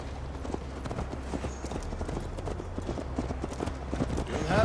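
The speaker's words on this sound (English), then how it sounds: "Mount up, Eivor. It's a long ride to Tamworth." Horse hooves clip-clopping on the ground in the Assassin's Creed Valhalla video game, a steady rhythmic run of close, moderate hoofbeats over a low background rumble.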